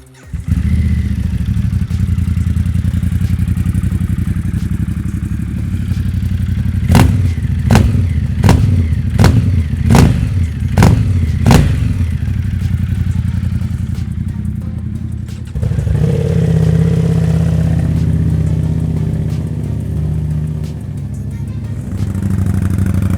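Ducati motorcycle engines, a Diavel V4 and a 2016 XDiavel, idle with a deep, close rumble. A quick run of sharp clacks is heard, then another engine fires up and settles into a steady idle.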